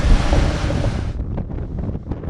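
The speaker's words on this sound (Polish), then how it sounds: "Straszliwie wieje, straszliwie w tej Patagonii wieje." Powerful Patagonian wind roaring and buffeting the microphone, a loud rush that cuts off partway and gives way to gusty, rumbling bursts.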